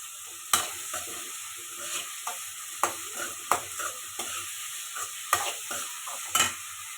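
A single tomato sautés with salt in a pan, with a soft steady sizzle broken by sharp scraping spatula strokes at an uneven rhythm, close and fairly quiet.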